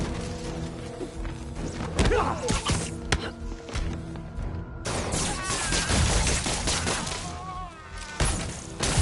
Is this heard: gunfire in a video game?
yes